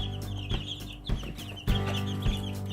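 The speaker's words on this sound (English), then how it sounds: "Here's the baby chickens. About 2 weeks old." Two-week-old baby chicks in a brooder cluck and peep close by, with several short bursts of calls over a steady background hum.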